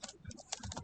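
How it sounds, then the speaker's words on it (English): Quick, irregular clatter of keystrokes on a computer keyboard while data is entered into R, soft and close, with no voices. "I'm just typing here something, read the data"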